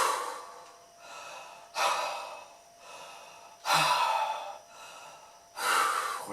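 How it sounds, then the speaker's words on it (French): Slow, deep breathing during a yoga session: four long, audible inhale-exhale cycles, each beginning with a sharp draw of air and fading into a softer release, close and unaccompanied. "Et respire profondément, très profondément dans l'abdomen."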